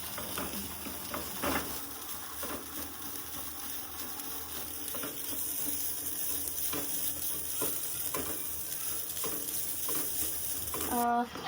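Grated coconut roasts in a pan, giving a continuous dry sizzle with frequent scraping stir strokes and a brief clatter near the end.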